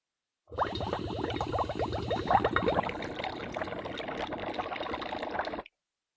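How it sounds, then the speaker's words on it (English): Hydrogen-oxygen gas mixture shot into soapy water, producing steady close bubbling and gurgling that runs continuously for about five seconds, with no talking. "I'm just going to shoot it into some soapy water."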